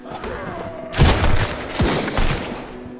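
Gunfire in the survival shooter Sunkenland, a burst of heavy booming shots starting about a second in, followed by further thuds and rumbling, fairly close and loud over a low background hum.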